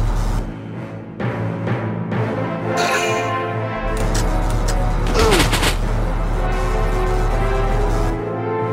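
Gunfire and heavy shelling in a Valkyria Chronicles battle, with a volley of firing and booming blasts over a deep steady engine drone, busiest toward the middle and the end.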